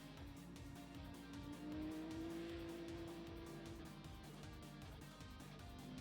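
BMW race car in the Le Mans Ultimate racing game, its engine droning steadily with a rising pitch sweep and tire noise, loud and continuous throughout.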